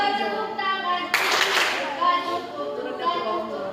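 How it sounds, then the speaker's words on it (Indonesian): Children in a classroom clap their hands in a short burst of several quick claps, heard between and under a teacher's speech. "Tepuk tangan lagi."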